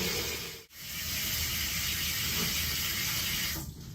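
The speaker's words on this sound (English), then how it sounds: "I'm gonna turn the water on. And we're gonna get it nice and warm." Water runs from a tap to warm a towel for catheter care, a steady close hiss and splash that briefly drops out as the flow is adjusted, then continues evenly.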